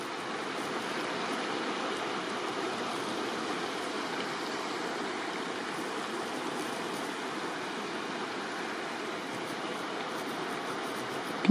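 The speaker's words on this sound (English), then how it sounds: "There's the river." A river flows beneath a bridge along a forestry road, a steady broadband rushing roar that stays even and unbroken throughout, with no voices.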